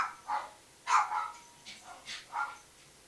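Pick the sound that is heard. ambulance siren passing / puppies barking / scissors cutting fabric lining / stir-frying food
puppies barking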